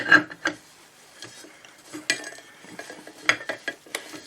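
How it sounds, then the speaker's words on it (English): The turntable platter of an Aristone tabletop radiogram is set back onto its spindle, with light metallic clatter and a series of sharp close clicks as it seats into place. "Put the platter back on."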